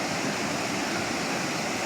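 A village river swollen after a night of heavy rain rushes past in a steady, full roar of churning water that stays constant and fairly loud throughout.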